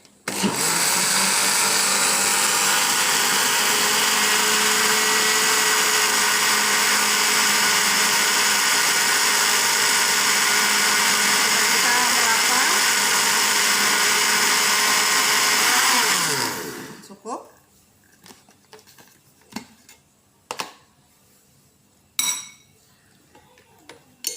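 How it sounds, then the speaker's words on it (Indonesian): A blender whirs loudly and steadily for about sixteen seconds blending martabak batter, then stops, followed by several sharp clinks and knocks of the jug and utensils. "Ya, lalu kita blender."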